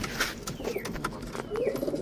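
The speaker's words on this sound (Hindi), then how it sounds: "तो ये है गाइस वो कबूतर" A young pigeon held in the hand coos softly, a few low murmuring calls that come close to the mic over faint background noise.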